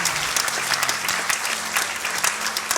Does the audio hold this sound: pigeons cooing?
no